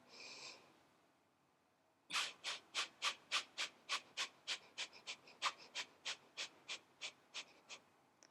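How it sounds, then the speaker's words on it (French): Forceful nasal exhalations driven by the belly in a yoga breathing exercise: a rapid, steady train of about eighteen short, sharp puffs, close and loud, following a brief breath and a pause. "on va venir faire des petits mouvements d'avant en arrière avec le ventre jusqu'à vider complètement les poumons"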